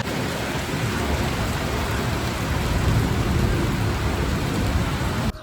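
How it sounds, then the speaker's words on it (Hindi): Heavy rain pours down in a steady, dense roar that holds evenly throughout with no voices. "बारिश शुरू हो गई है और खतरनाक बारिश हो रही है,"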